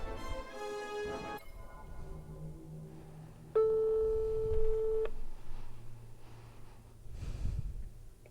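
Outgoing phone call tone as a caller rings back people live, a steady beeping tone for about a second and a half over quiet background hum, with breathing and faint game audio around it.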